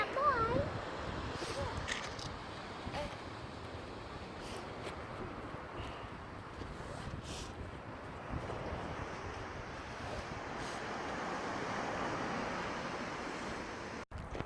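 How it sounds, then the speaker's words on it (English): Steady wind buffets the microphone over a continuous wash of surf on a beach, with a voice faintly breaking through near the start. "So we're on the beach. It's a little bit windy, but it's not too bad."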